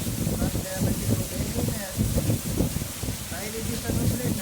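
Heavy rain pours down in a steady, dense hiss through a midday downpour, with low rumbling gusts and a voice faintly present underneath.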